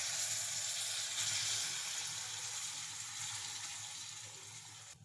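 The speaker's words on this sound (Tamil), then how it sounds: "அப்புறம் நம்ம கரைச்சி வச்சிருந்த புளியை இதில் ஆட் பண்ணுறோம்." Tamarind water is poured into a drumstick curry in a hot pan, giving a loud, steady hiss of sizzling and bubbling that eases off slightly toward the end.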